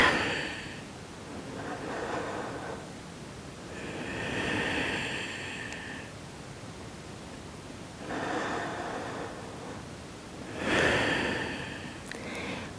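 Slow, deep breaths during a seated yoga twist, each inhale and exhale a soft airy swell, repeating at a calm, even pace, close and quiet, with no talking.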